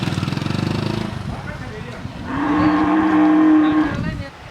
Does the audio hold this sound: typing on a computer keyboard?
no